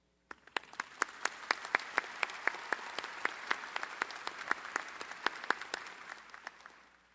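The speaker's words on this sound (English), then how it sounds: "Please join me in applauding this stellar student" At a university summer commencement ceremony, an audience applauds a student with sharp, distinct claps over a broader wash of clapping, starting abruptly and fading out after several seconds.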